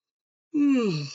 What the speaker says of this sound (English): Oh, I had a little bit of yawn.